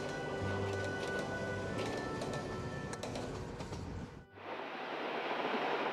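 A JNR-era 485 series limited express electric train rumbles along the Nippō Main Line in Kyushu, a steady loud roar of wheels on rail with some rhythmic clatter, cutting off sharply near the end into a quieter hiss.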